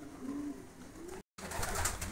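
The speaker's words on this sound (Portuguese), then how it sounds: "E tá aí a pombada aí, ó, cada vez só aumentando aí" Pigeons coo softly inside a crowded pigeon loft in Sarzedo, low murmuring calls near and far, with a brief gap and then busier fluttering and rustling.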